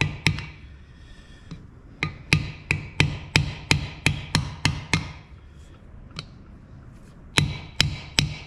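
Sharp metallic hammer taps during a clutch assembly on a motorcycle, a quick run of about a dozen evenly spaced strikes, a pause with a lone hit, then three more blows, close and fairly loud.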